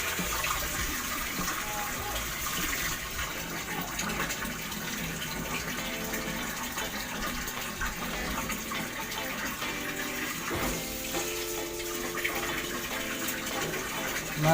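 Water runs steadily from a newly replaced household faucet, a continuous broadband rushing that stays even throughout, fairly close, with faint background sounds and no clear talk.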